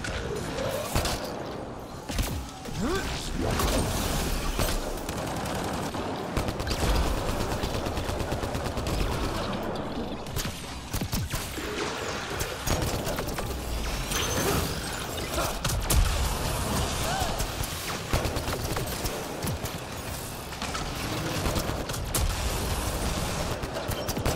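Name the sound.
gunfire from a video game (Prodromos)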